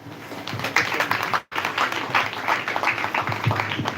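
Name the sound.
audience round of applause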